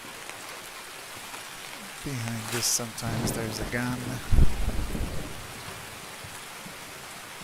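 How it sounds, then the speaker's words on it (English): Heavy rain pours steadily throughout a rainy match of the Escape from Tarkov shooter game, with someone talking over it for a few seconds in the middle. "It's really raining heavily now."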